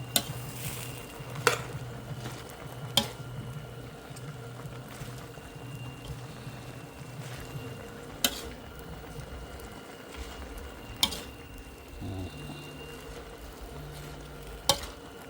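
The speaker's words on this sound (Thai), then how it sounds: "ผัดผักรวมมิตร" Mixed vegetables with baby corn and garlic leaves are stir-fried with pork in a home kitchen, a low steady sizzle broken by sharp spatula scrapes and clanks against the pan at irregular intervals.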